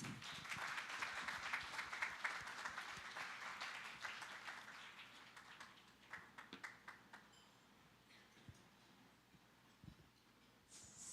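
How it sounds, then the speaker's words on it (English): An audience at a formal diplomatic event applauds to welcome a speaker, the faint, distant clapping strongest at first and then thinning into scattered claps as it dies away. "Join me to give a warm applause as we welcome Dr. Leonor McTollis Briones."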